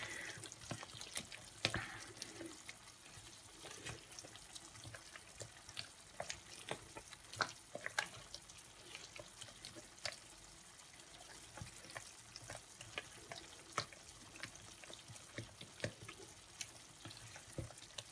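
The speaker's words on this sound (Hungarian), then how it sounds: "kezd a víz elfőni a szalonnáról." Bacon fries in a pan as its water boils off while Hungarian túrós csusza is cooked. Faint, continuous sizzling is scattered with sharp little crackles and pops throughout, with no talking.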